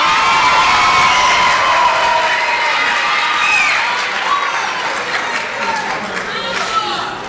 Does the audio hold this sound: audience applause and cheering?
yes